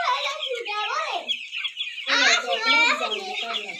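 Chickens and a rooster cluck and call on a poultry farm, fairly close, with children's voices chattering over and between the bird sounds.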